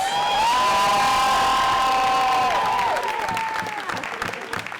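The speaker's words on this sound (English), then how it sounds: "Please give my staff a big round of applause." Election night victory crowd bursts into loud applause with sustained high whoops and cheers riding over the clapping, the shouts fading after a few seconds while scattered claps continue.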